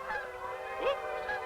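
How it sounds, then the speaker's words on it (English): Canada geese gather on open water before migrating south, a single distant honk rising above a steady hum of background noise, faint and brief. "Canada geese congregating for the migration south."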